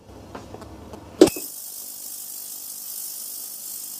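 Ultrasonic cleaning bath switched on to clean a circuit board, a click followed by a steady, loud high-pitched hiss and whine that continues without break.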